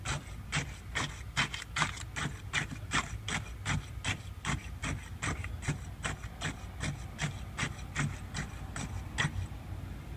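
A steel rod is pushed repeatedly into fresh concrete in a test cylinder, producing a steady train of about two dull, gritty thrusts per second, close and moderately quiet, without talk.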